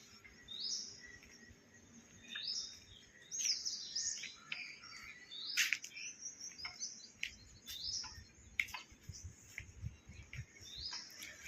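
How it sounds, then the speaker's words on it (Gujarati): Sparrows chirp repeatedly in short, sharp calls scattered throughout, with a faint insect hum and breeze underneath. "ચકલીઓનો અવાજ આવે છે"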